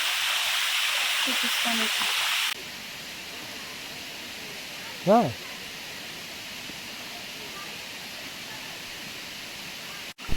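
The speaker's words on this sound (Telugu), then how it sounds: "వాటర్ ఫాల్ దగ్గరికి అయితే వచ్చాం" A waterfall on the Araku route from Srikakulam gives a broad rushing hiss that is loud at first and then drops to a softer, steady wash, while a person speaks briefly.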